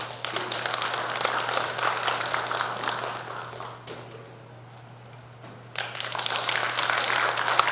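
Applause at a Democratic Party district delegates' convention greets the preparatory committee chair, a steady crowd clapping that dips briefly into a quieter lull before swelling back up, with a low electrical hum beneath.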